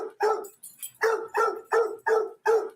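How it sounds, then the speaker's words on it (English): A dog barks in a steady series of about seven sharp, close barks with short gaps between them, no talk over them. "Keep barking, buddy. Keep barking."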